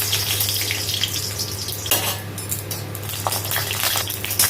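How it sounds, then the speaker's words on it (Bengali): Spices and chilli frying in mustard oil in a pan, a steady close sizzle with crackling bursts and a few utensil clinks, no voices. "এবার সর্ষের তেল দেবো"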